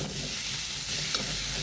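Ginger and potato sizzle together in a hot oil pan while being stirred, a close steady frying hiss with a faint scrape of the spoon, no voices.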